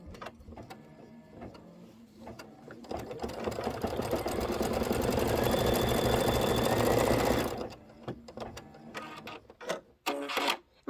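A sewing machine stitching a Santa cinch sack runs in a fast, steady whir for several seconds, rising to a loud continuous buzz before stopping, followed by a few short clicks and bursts.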